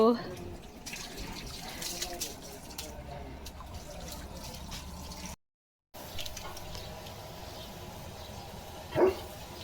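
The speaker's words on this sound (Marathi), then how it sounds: "पक्षी आलाय लिओ त्याला भुंकतोय" A dog barks at a bird outdoors, a few short barks amid running water, with a person talking through much of it.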